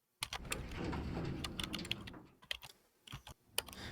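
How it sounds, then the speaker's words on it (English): Rapid clattering keystrokes on a computer keyboard right beside the microphone, loud and close with irregular bursts and a brief pause near the end, with no speech. "This is the first time I've ever heard typing pick up on your mic."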